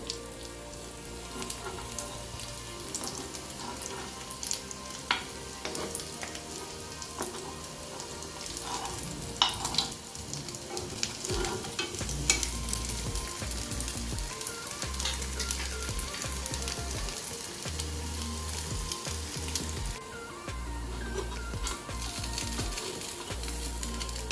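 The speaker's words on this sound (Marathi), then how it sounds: "आता हे एका बाजूने छान फ्राय झाले आहे. परतून घेऊया." Hara bhara veg kababs shallow frying in a pan give a steady, dense sizzle that runs the whole time. Occasional stirring and turning noises sound over it, with no voices.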